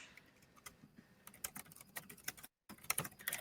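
Rapid clicking keystrokes on a computer keyboard, typed at an irregular pace with short bursts and one brief silent gap, close and fairly quiet, with no voices.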